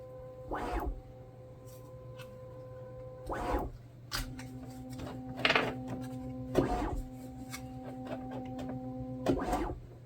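A Bambu A1 3D printer hums steadily with whirring motor tones that shift pitch, broken by periodic louder mechanical sweeps every second or two.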